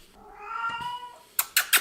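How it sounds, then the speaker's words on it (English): A cat gives one long, drawn-out meow close by, followed by three short, sharp noisy bursts in quick succession. "that's my cat in the background"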